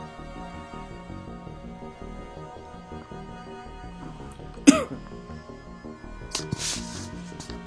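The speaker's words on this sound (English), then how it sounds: "Excuse all my coughing, spluttering, sniffing and whatnot." A person with a bad cold gives a single sharp cough, then a couple of smaller throat-clearing splutters later, close to the mic over a steady background hum.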